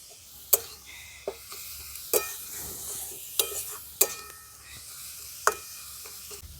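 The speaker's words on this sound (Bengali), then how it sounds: "এটা ভাজা ভাজা হতে থাক" Vegetable momo filling with ground black pepper fries in a pan, a low continuous sizzle broken by a handful of sharp, close scrapes and clacks of a spatula stirring against the metal at irregular intervals.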